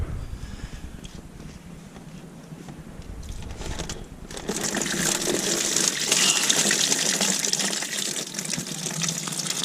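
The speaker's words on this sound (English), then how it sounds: "So now I can just prise this hose away, and that should mean that I can drain the coolant." Coolant gushing out of a pulled hose on a Ford Fiesta ST150, a steady rushing pour that grows louder and hissier midway and keeps flowing without a break, with no voices.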